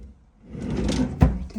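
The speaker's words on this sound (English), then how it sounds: "And we have 4 drawers. So that's our top drawer." A kitchen drawer in a rental home slides with a rising rumble and ends in a sharp knock as it shuts, close by and without talk.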